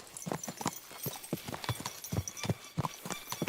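Horse hooves clip-clop steadily at a trot in Kingdom Come Deliverance 2, close and continuous, with a faint background hiss and no talking.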